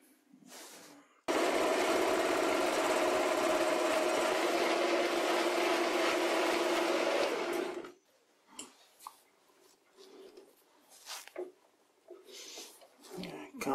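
A lathe turns a steel drill chuck arbor in a loud, continuous cut that holds steady for about six seconds, then stops abruptly, leaving scattered clicks and knocks from the workshop.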